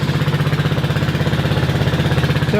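A Kymco scooter engine idles high, a steady, loud, rapid, pulsing putter that holds even throughout with no voices.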